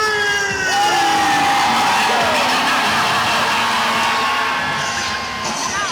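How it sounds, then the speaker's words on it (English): A large crowd at Halloween Horror Nights screams and cheers loudly, overlapping shrieks and whoops swelling into a sustained roar before easing slightly at the end. "Let me hear you scream!"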